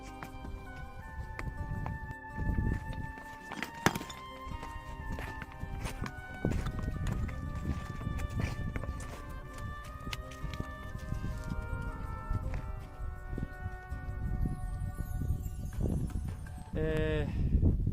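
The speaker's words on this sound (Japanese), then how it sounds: "ロバだからこそこういう険しい山道を登ることができるんだと思います。" Donkey hooves clip-clop steadily on a steep, rocky mountain trail near Petra in Jordan, a continuous walking rhythm of hoofbeats under a layer of music with faint voices.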